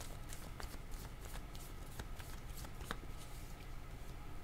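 Tarot cards are shuffled and handled close up in a steady run of crisp riffling flicks and soft slaps, with no talking.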